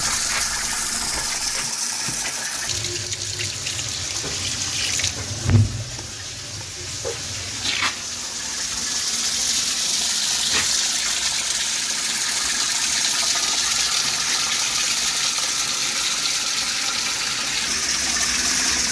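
Water from a submersible pump pours into a small DIY patio waterfall feeding an outdoor aquarium, a steady close splash and gush that swells after a brief dip, with a few small knocks.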